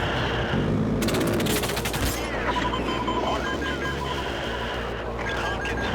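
Rapid bursts of gunfire in Battlefield 3's campaign crackle in a dense volley, with sharp repeated shots over a busy background of game effects.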